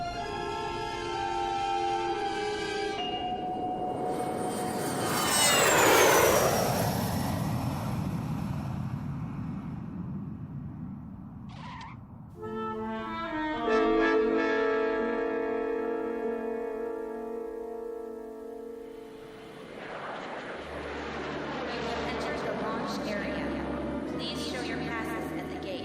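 A landing airplane in a radio drama, its engine roar swelling and sweeping past with a rising whine, then fading into a lower rumble, under spoken dialogue and music.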